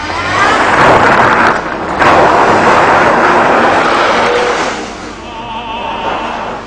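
Alfa Romeo GTV coupe with a 3-litre V6 accelerating hard, a loud, rising engine roar that dips briefly near the start, then swells again before easing off toward the end.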